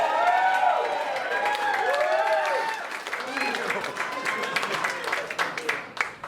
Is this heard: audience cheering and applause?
yes